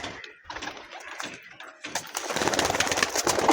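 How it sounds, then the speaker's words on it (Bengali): Sakhi teddy pigeons cooing close by at a home loft in Barasat, soft repeated calls under a steady rustling, flapping bustle that grows louder toward the end. "পায়রাগুলো দেখুন পুরো এক ফ্রেমে পায়রাগুলো নিয়ে এসেছি আপনাদের জন্য"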